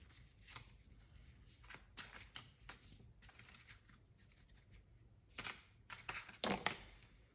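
Tarot cards being shuffled for a reading, giving repeated soft riffling and slapping bursts of paper cards, fairly close and quiet, with a louder flurry near the end and no talking.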